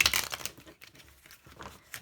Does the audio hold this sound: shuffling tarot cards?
yes